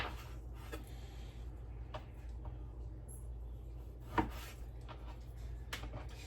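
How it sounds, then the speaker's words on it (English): A knife chops an onion on a cutting board in a home kitchen, with scattered sharp taps and one louder knock standing out from a low steady hum. "And then we'll start chopping the onion."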